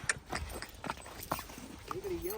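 Hooves of a mare clip-clop on the ground in an uneven walking rhythm, several distinct nearby knocks spread across the moment, mixed with background chatter and outdoor noise.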